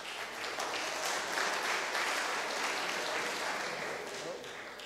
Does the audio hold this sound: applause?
yes